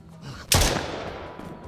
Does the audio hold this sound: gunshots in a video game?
yes